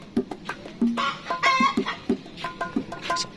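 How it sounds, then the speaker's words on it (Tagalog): Buff Orpington chickens in a farm breeding coop, clucking in short repeated bursts with brief squawks, close and fairly loud, with no talking. "mga Orpington, Buff Orpingtons"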